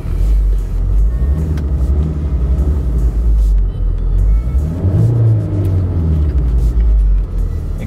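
A car passes close by on a road with a loud, rumbling engine drone that swells and eases as it goes past, with no talk over it.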